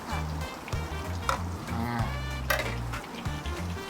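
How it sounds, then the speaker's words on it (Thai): Garlic, ginger and pandan leaves stir-fried in a pan over medium heat: steady pan scraping and clattering with a soft sizzle, close and continuous, with low tonal background hum and no talk. "แล้วก็ใบเตยเตย ลงไปผัดด้วยกันนะฮะ"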